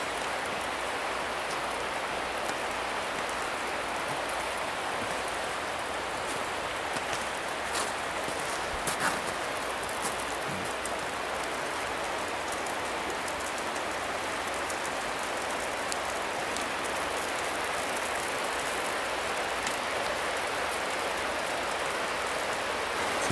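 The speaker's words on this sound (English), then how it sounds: "fine rain." Fine rain patters continuously on a tent, a soft, even hiss of tiny drops close by, steady and gentle throughout with no talking.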